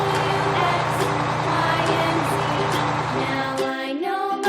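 A bulldozer rumbles steadily and loudly as a heavy diesel drone, with a hiss and a run of repeated high beeps near the end.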